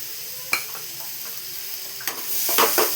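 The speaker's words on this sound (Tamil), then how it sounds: "இதுவும் நல்லா மிக்ஸ் பண்ணிக்கலாம். இதுவும் நல்லா வதக்கணும்." Half a pound of tomatoes sautéing in a pan, soft sizzling under several spoon scrapes and taps, the frying growing louder toward the end, no talking.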